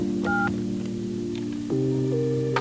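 Telephone dialing tones, a short series of steady DTMF beeps played at moderate level over a constant background hum, with no talking.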